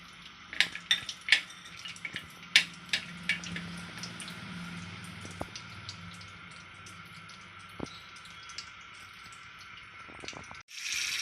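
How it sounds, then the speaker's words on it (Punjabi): Almonds roast in hot desi ghee in a pan with a steady, soft sizzle, while a metal spoon clinks and scrapes against the pan several times, with a louder burst of frying near the end. "ਦੇਸੀ ਘਿਓ ਗਰਮ ਹੋ ਗਿਆ ਪਹਿਲਾਂ ਬਦਾਮ ਨੂੰ ਰੋਸਟ ਕਰ ਲਾਂਗੇ"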